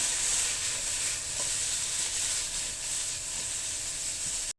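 Garlic and onion sauté in a hot pan for pancit canton, a steady, loud frying sizzle with light stirring scrapes that holds evenly throughout before cutting off abruptly at the end.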